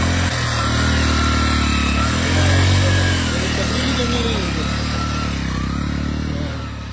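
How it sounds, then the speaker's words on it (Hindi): A normal, unmodified motorcycle ridden through a wild, hilly area, its engine droning steadily and loudly up close, rising slightly mid-ride before easing off at the end. "देखो ये नॉर्मल बाइक है, बाइक में कोई अलग से कुछ नहीं, चेंजेस नहीं है।"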